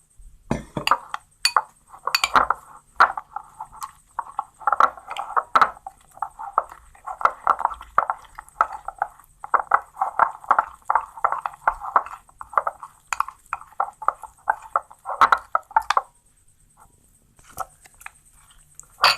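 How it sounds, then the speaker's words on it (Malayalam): Egg manchurian batter stirred with water in a bowl gives repeated clinking and sloshing strokes in quick, uneven rhythm, close and fairly loud, then tapers off near the end. "ഇത് വെള്ളമൊഴിച്ച് മിക്സ് ചെയ്യാം"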